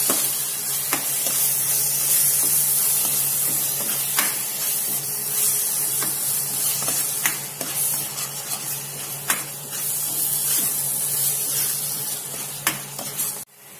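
Ground onion and tomato paste sizzling loudly in a hot pan while being stirred, a continuous close hiss broken by regular scraping knocks of the spoon, with no talking.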